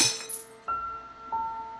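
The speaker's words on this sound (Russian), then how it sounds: "Потом раздался звук бьющегося стекла." Glass breaking in the Kill or Love video game: an initial bright crash followed by two ringing clinks of glass, close and clear, with no talk.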